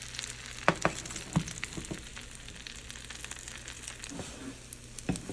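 Stuffed French toast sizzles and fries in a pan, a steady soft crackle with occasional sharper pops and utensil taps, fairly close and without voices.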